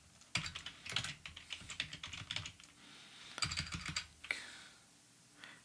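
Computer code is typed on a keyboard in quick bursts of close, crisp key clicks with short pauses between runs, then trails off into a few scattered taps.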